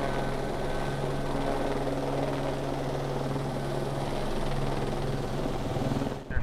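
A helicopter hovers over trees to collect cones, its steady low rotor thrum and engine drone loud and continuous throughout, with a brief disturbance at the very end.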